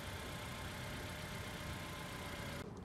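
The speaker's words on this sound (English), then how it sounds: "On the Civic EX trim and above, the car comes with remote start." A 2018 Honda Civic Hatchback idles after a remote start, giving a faint, steady, even engine hum with no other sounds.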